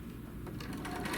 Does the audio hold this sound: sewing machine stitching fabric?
yes